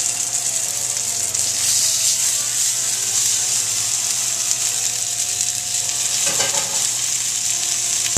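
Meat searing in a hot pan, two pieces, with a loud continuous sizzle and crackle close up, steady throughout with a brief flare of spattering near the end.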